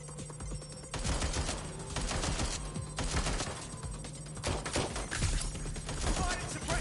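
Sustained gunfire in the video game Watch Dogs: Legion, with rapid automatic bursts and sharp shots firing almost continuously, fairly faint and dense throughout.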